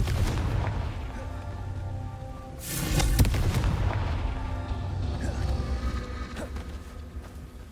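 A Confringo fire spell blast from the Hogwarts Legacy video game, a loud booming burst near the middle over a dense, rumbling game background of continuous effects.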